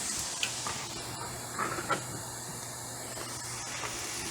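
Garlic sizzling with onion in a hot pan, a continuous close hiss with small crackles and pops.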